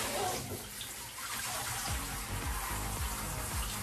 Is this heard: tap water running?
yes